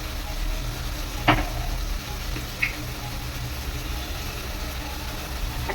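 Kashmiri chili powder goes into a pan of fried potatoes, which hisses and sizzles steadily while a couple of brief scrapes and clinks from the stirring utensil stand out.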